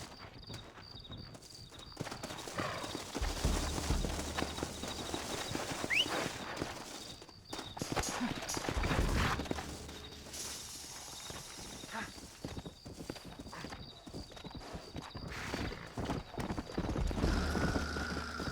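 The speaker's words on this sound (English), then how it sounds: "Looks like Carlos left us some horses." Horses' hooves clatter in steady clip-clop rhythms in a Red Dead Redemption scene, with occasional whinnies, fairly close and under stretches of game dialogue and background action.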